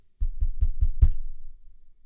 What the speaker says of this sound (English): So there was a knocking on the door again.